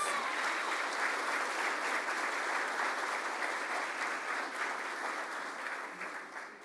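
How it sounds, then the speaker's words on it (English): A large room of people at a Rotary Club event gives a sustained, even round of applause, a dense wash of clapping that holds steady and then begins to taper at the end. "Please give all of them a big round of applause."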